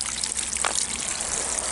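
Spring overflow water trickles steadily into a small restored creek, forming little waterfalls, a constant close babbling and splashing with no voices.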